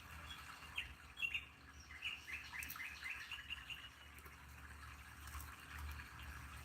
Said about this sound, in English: We're gonna go with birds this morning.